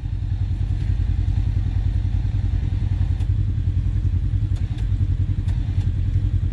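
An off-road UTV engine holds a steady, rumbling throttle with a rapid chugging pulse during a rocky winching section of a group trail ride, loud and close with a few faint clicks above.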